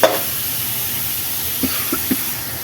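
Onions sizzle steadily in a hot pan for paneer bhurji, a continuous close hiss with a few soft pops and clinks scattered through it.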